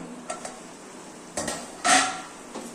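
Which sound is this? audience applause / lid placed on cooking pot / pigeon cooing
lid placed on cooking pot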